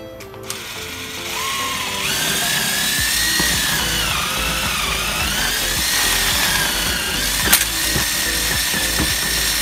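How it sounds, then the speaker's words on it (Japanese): An impact driver drills holes in a stag beetle larva fungus bottle, whirring and rattling steadily for several seconds, rising in pitch as it bites, with a brief clack near the start. "今回使用するのがこちらです、ドリル、インパクトですね。"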